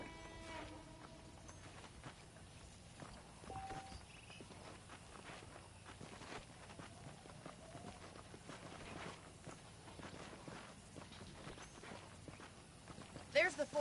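In Red Dead Redemption, a saddled horse walks with soft, irregular hoof clops at moderate distance, while characters talk over the low ambient background.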